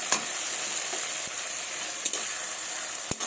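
Ground coriander, spices and chillies fry in hot oil for a fish-head moong dal ghonto, a constant close sizzle broken by a few sharp stirring scrapes.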